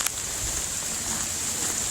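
Heavy rain pours down steadily outside a garage on a wet day, a dense continuous hiss of falling water that holds even and unbroken from start to finish with no voices.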